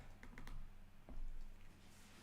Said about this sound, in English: Now you can play with a tiny, horrible keyboard instead of a goodish one.